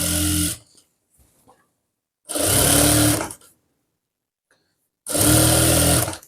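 A sewing machine stitching the cloth of a Nihang Sikh chola runs in three loud, close bursts of roughly a second each, separated by quiet pauses with faint handling noises.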